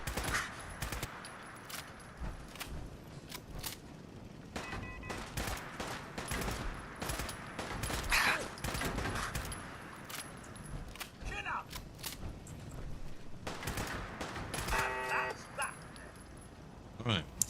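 Automated turrets in the video game Fallout 4 fire repeated sharp bursts of gunfire through the whole stretch, mixed with dog-like yelps and other game sounds, with talking over it.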